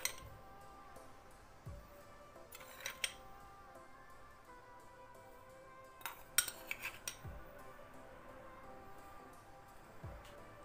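Cutlery stirs a cottage cheese casserole batter of sour cream, semolina and vanilla sugar in a bowl, with sparse metallic clinks and scraping, two brief busy bursts of clatter, and quiet gaps between them.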